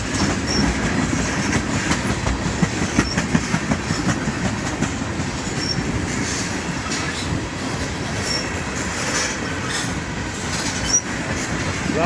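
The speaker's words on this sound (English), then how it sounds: "Big train." A long CSX freight train loaded with many tank cars rolls past close by, a continuous loud rumble with rhythmic clickety-clack of wheels over rail joints and occasional faint wheel squeal, heard alone without talk.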